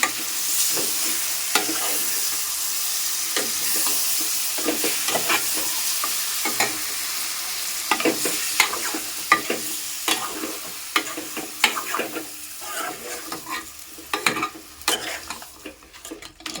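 Washed chicken pieces with a little liver frying in a pan for chicken curry, a constant sizzle under repeated scraping stirs and light ladle taps against the pan.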